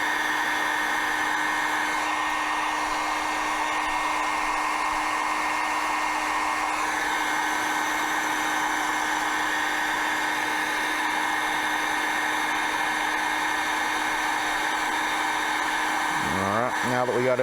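A heat gun runs continuously close by, shrinking heat-shrink tubing over an Anderson Powerpole connector; an unbroken blowing hiss with a steady motor whine that shifts slightly partway through, no talking.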